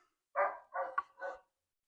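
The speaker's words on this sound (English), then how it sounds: "ignore the barking dog" A dog barks three times in quick succession, short and moderately close, near an off-grid log cabin where window frames are being installed, with silence before and after.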